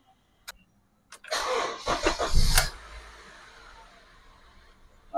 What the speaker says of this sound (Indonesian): baru mobil kita hidupkan